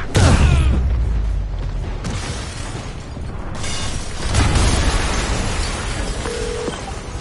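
A loud explosion in the game Spider-Man on PS4 bursts at the start and rumbles away, followed by crackling debris and a second deep blast a few seconds later.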